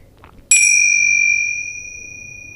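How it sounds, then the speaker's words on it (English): A single meditation bell is struck once during a yoga practice, giving a clear bright ring that lingers and slowly fades over the next couple of seconds in an otherwise quiet room. "as you hear the bell, follow the sound of the bell until you can't hear it anymore."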